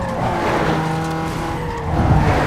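In Need for Speed Underground 2, a car's engine drones loud and close as its tyres squeal in a skid, with a rougher burst near the end, no talk.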